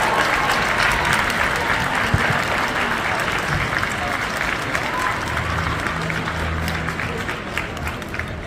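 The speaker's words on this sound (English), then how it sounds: "can you give your parents a huge round of applause?" A large audience at a school district orchestra concert claps loudly and steadily, a continuous wash of applause with crowd murmur and cheering mixed in throughout.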